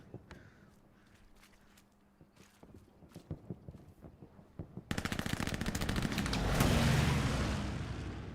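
MG34 machine gun firing in a console multiplayer war shooter game: a sustained, rapid automatic burst that starts abruptly after scattered distant shots and footsteps, loud and close, swelling then holding steady.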